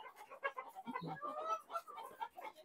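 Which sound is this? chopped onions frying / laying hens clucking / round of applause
laying hens clucking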